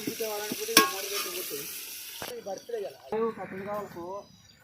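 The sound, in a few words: stirring mutton curry cooking in a pot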